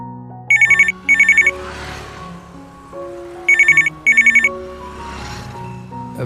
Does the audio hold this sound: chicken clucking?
no